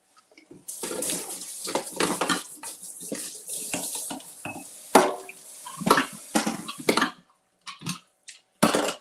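Water runs from a kitchen tap while something is rinsed off, a broken splashing flow with clinks of dishes and cutlery, near and moderately loud, stopping and starting in bursts.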